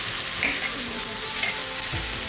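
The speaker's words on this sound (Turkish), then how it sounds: "Şimdi güzelce hepsini karıştırıyorum." Chicken for saç kavurma frying in a pan while being stirred: steady close sizzle with scraping strokes of a utensil against the pan, continuous and fairly loud.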